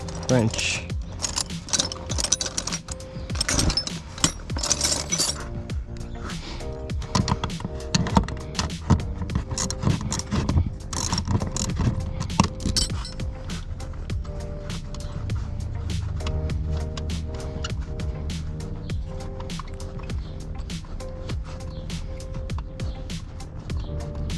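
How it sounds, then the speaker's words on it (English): A wrench loosening bolts to remove a racing bucket seat from a Toyota Mark II JZX90: repeated close ratcheting clicks and metallic clatter in uneven bursts throughout. "I'm gonna have to use a regular wrench."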